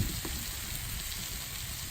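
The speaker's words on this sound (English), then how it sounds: "get you a little bit of those onions, throw them on there" Onions sizzle on a Blackstone griddle as burgers are being built, a steady close-up frying hiss running evenly through the short moment with no voices.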